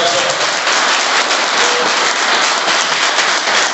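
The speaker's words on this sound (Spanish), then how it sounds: "Un aplauso." Audience applause at a speech by a company president, a dense, steady, loud wash of clapping from a large crowd, continuous throughout without talk.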